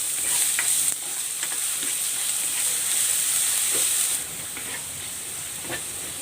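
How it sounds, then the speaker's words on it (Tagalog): Ginger and garlic sizzle and fry in hot cooking oil in a pan, a steady loud hiss with occasional stirring scrapes, close and continuous with no talking. "Igigisa ko na tong luya. Ilagay ko na rin tong bawang."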